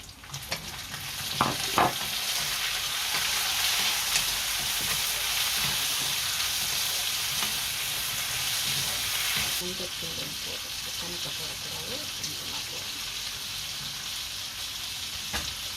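Onions and tomatoes frying in a pan for a tinned-fish curry, a loud steady hiss of oil with a couple of stirring knocks early on, the sizzle softening slightly partway through, no talking.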